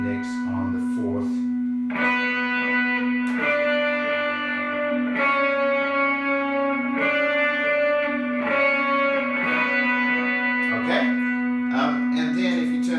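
An electric guitar played with reverb in a worship tutorial, sustained chords and single notes ringing out with a soft, washed attack and lingering tails, clear and close with no talking.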